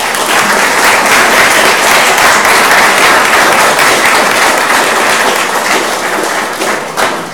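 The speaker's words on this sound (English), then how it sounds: "Applause" Loud, dense applause at a county council meeting, many people clapping steadily and close by for several seconds, with a few heavier thumps near the end as it fades.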